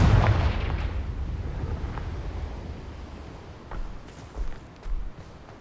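A Confringo blasting spell in Hogwarts Legacy sets off a booming explosion up front that fades into a rumbling tail, followed by a few smaller thuds and pops.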